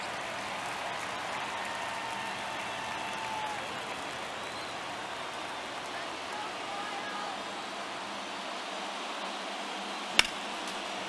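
Stadium crowd at a baseball game in MLB The Show 23, ninth inning of a one-run game between the Twins and Royals, a steady broad murmur and cheer from many spectators, with a single sharp crack near the end.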